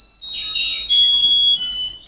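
A Japanese rice cooker plays its chime ringtone, a bright electronic melody of sustained high beeping tones close by, running for about two seconds with no talking.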